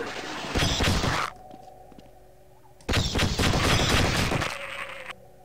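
Rapid-fire weapon bursts from the hornet gun in the video game Half-Life, two loud sustained volleys of buzzing shots separated by a brief pause, close and dominant with no talk.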